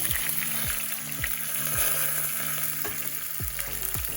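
Cumin seeds and fenugreek sizzle in hot oil with a continuous crackling hiss, while a spoon scrapes and stirs in several short sweeping strokes close by.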